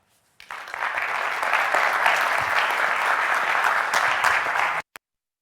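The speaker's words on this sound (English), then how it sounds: "So please let us applaud again for the great team" Applause from an audience at a startup investor day for Icelandic startups, a dense, steady crowd clapping that starts abruptly, holds evenly for about four seconds and cuts off sharply.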